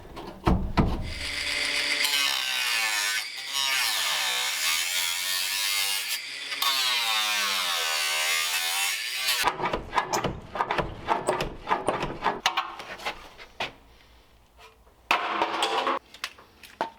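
A metal post being sawn out: a loud, shrill, steady cutting whine with wavering pitch runs for about seven seconds, then breaks into scattered clatters, knocks and short scraping bursts, close by and without speech.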